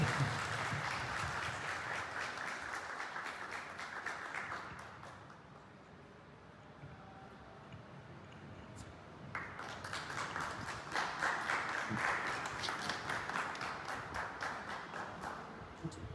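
Loud applause greeting a speaker at a village community meeting in Delhi, a burst of clapping that fades to a lull mid-way and then swells again into steady, dense clapping.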